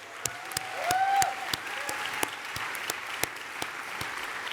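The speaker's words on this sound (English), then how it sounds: "I think that's a round of applause" A conference audience at One Young World 2011 applauds, with steady clapping from the crowd and several sharp, distinct claps standing out near the microphone. A brief whistle or cheer rises briefly early on.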